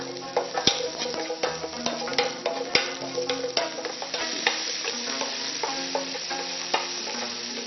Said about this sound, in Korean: 그리고 약간의 소금과 약간의 후춧가루를 넣어 볶아줍니다.